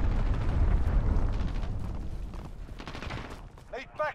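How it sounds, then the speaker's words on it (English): A cruise missile strike explodes in a Call of Duty beta match, a heavy rumbling blast that fades out, followed by a brief game voice near the end. "Enemy cruise missile. Take cover."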